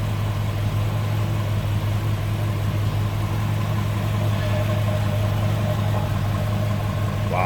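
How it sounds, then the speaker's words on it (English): A 1959 Chevrolet two-door hardtop Sport Coupe's 283 V8 idles smoothly and steadily at close range, a continuous low, even rumble that holds for the whole stretch with no speech. "283 V8, just purring away."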